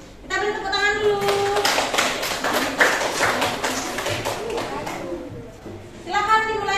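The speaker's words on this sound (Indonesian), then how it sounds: "Kita beri tepuk tangan dulu" A school class claps hands in a steady burst of many small claps for several seconds, with a teacher's voice speaking before and after the applause.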